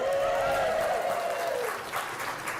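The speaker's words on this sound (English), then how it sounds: "Round of applause for Shauna." A short burst of applause from a training session audience in Kansas City, with a sustained voice-like tone over it before the clapping fades.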